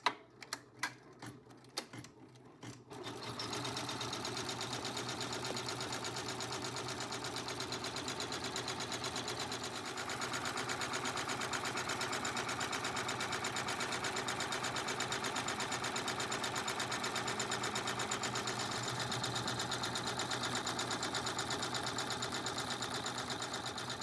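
Embroidery sewing machine stitching a design onto a vinyl zipper pouch, a steady, fast mechanical chatter running continuously after a few brief clicks at the start.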